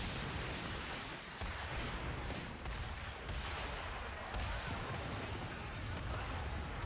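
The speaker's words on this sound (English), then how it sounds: "That's some carnival fireworks, alright." Fireworks explode in Final Fantasy XIV as a dense, roaring barrage of booms and crackles, loud and continuous with a few sharper bursts standing out, and no speech.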